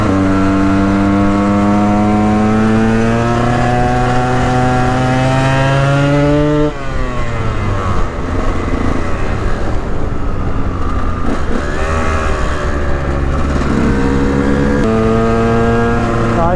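A motorcycle rides close through traffic stuck behind cars, its engine droning steadily as the pitch climbs under acceleration, then drops at a gear change before revving up again.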